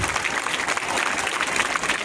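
Audience at an anti-drug-abuse awareness rally applauds, a dense, steady patter of many hands clapping at close range, uninterrupted for two seconds.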